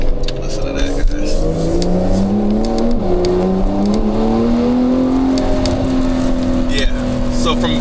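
TechArt Porsche 911 Carrera T with an M Engineering tune and high-flow cats, its engine note rising and falling through gear changes as it accelerates, heard loud from inside the car with someone talking over it.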